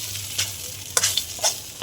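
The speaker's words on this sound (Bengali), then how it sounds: "তো ডালের সঙ্গে মশলাটা ভালো করে কষে নিচ্ছি।" Mung lentils and spices being stir-fried in a large wok make a steady close sizzle broken by irregular scraping strokes of a spatula, with no voices.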